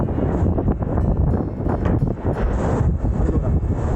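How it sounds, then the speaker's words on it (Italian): Strong wind on a ship's deck off the Almería coast of Spain buffets the microphone in loud, continuous roaring gusts, with a low rumble underneath and no voices. "Fuori, già ve lo dico, il vento è terribile"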